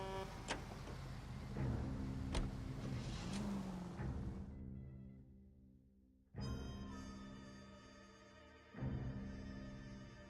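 A car in L.A. Noire drives with a steady engine hum that fades, cuts out briefly, then resumes as revving with shifting tones, moderately loud and with no talk.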